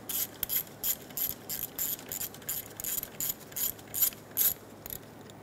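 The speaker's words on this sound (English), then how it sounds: "Remove the 10mm bolt on top of the alternator for the harness bracket." A ratchet turns a 10mm bolt on top of an alternator, a car engine part, giving fast, quiet, evenly spaced clicking strokes, close up and with no talk.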